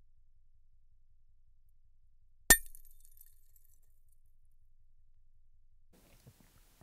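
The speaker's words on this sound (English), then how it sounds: "causing the glass to shatter." A glass beer bottle implodes under deep-ocean pressure, its cap punched through the center: one sudden sharp crack with a glassy ring that decays over about a second, then near silence with faint low rumbles toward the end.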